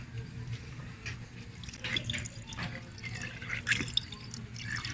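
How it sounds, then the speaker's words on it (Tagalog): Cooling system flush liquid pours and trickles steadily into the cooling system of a Suzuki Every Wagon DA64W, with small drips and splashes, close by and fairly quiet, no voices. "maglalagay na tayo ng cooling system flush bago yung distilled water"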